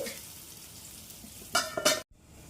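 A Kerala snack cooks on low heat in a covered pan, giving a soft continuous sizzle, then a few clattering metal knocks as the lid or utensil is handled, and a short break before the frying resumes.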